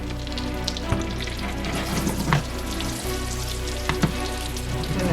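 A large breaded chicken parmesan cutlet sizzles steadily in a frying pan, a dense continuous crackle with occasional louder pops, close up and with no talking.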